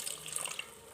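Water splashes briefly into a pan of simmering masala mixed with coconut powder, a short, close, steady pour with no talk.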